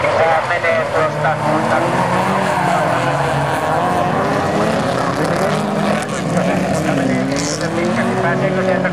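Rally cars at a 2006 event in Nurmes, Finland, including a Lada, roar off the start and skid on loose ground, a loud continuous engine and tire din with a commentator talking over it.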